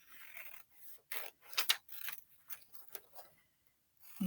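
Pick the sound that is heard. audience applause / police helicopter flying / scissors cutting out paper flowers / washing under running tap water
scissors cutting out paper flowers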